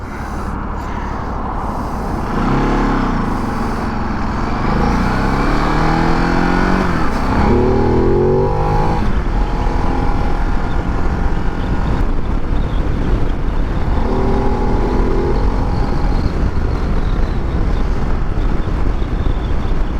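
A 2023 Ducati Desert X engine drones steadily while riding on the street, rising and falling in pitch as the revs change, under constant loud wind rush at the microphone.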